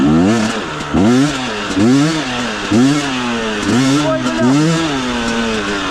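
A KOVI 300 Pro two-stroke enduro motorcycle engine revs repeatedly in sharp, rising bursts, loud and close, with a raspy buzzing tone between throttle blips.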